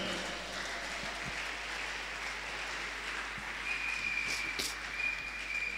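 A church congregation claps for the Lord in a faint, continuous patter of applause from a crowd, steady and somewhat distant throughout.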